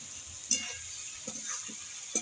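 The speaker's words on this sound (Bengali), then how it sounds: "চিনি, টমেটো পিউরি একসঙ্গে দিয়ে আমি মশলা ভালো করে আলুর সঙ্গে কষিয়ে নেব" Spices, potatoes, sugar and tomato puree sautéing in a pan, a soft close sizzle broken by a few brief stirring scrapes.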